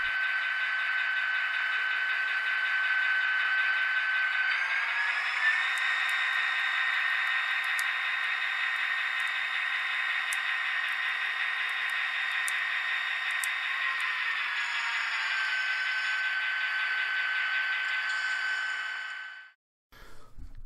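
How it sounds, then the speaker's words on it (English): A LokSound DCC-equipped model train locomotive runs through the yard, its sound-decoder diesel engine hum holding a steady mid-pitched drone with a slight pitch rise early on and a drop near the end, then cutting off. "this is how the engine will sound and perform just moving normally through the yard"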